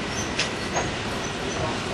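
Amtrak's City of New Orleans passenger train rolls along, heard from on board as a steady loud rumble of wheels and carriage noise with faint clanks.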